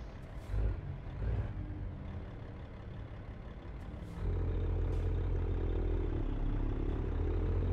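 A Caterpillar-engined truck idles in American Truck Simulator, a steady low diesel rumble that grows louder and fuller partway through, with a couple of short hissing bursts near the start.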